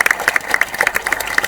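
Scattered audience clapping at a televised quiz show final round as guests are welcomed, short sharp claps in an uneven rhythm over a brief moment.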